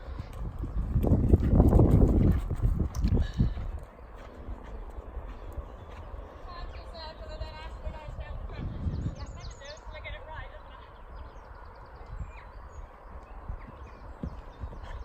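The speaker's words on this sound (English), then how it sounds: "Should be landing in canter." A horse lands a jump and canters on, its hoofbeats soft and rhythmic beneath a loud burst of voices early on, then continuing more quietly with occasional talk and bird chirps.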